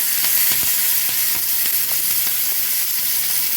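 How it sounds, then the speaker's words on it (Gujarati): Mustard seeds and turmeric hiss and sizzle in hot oil during a tempering for a Kathiyawadi methi chilli sambharo, a dense, steady frying crackle close up with no talking. "રાય આપણી સરસ ક્રેકલ થઈ ગઈ છે હવે આપણે હળદર નાખી અને વઘાર કરી દઈએ"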